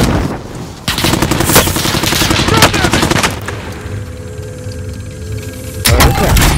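Rapid automatic gunfire in the Call of Duty: Modern Warfare video game, with dense bursts of shots, a lull of lighter fire, then another loud burst, all close and harsh.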